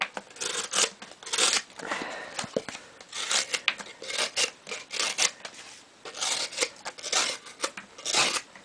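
A Gavko custom knife slices through a cardboard box in repeated rasping, tearing strokes, close and fairly loud, with short uneven pauses between cuts.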